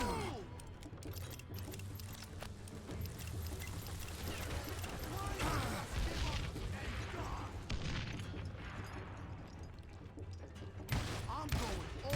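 Gunfire in Call of Juarez: Gunslinger: scattered shots and bursts in a fairly quiet mix, with talking layered over the action.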